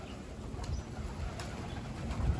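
Pigeons out in the open with soft cooing and a few brief wing flutters, faint and somewhat distant against a steady outdoor hiss.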